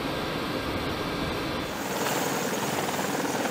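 An AH-64 Apache attack helicopter gives off a steady, broad rushing roar that stays loud and unbroken throughout, with no voices.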